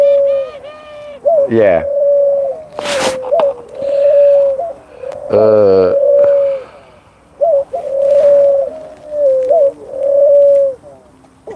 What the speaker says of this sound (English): My doves, sorry, they make a lot of noise